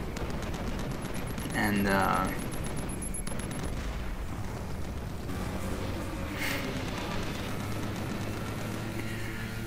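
Enemy soldiers firing rifles in the shooter Killzone 3, a sustained rattle of gunfire and battle noise running throughout beneath someone talking.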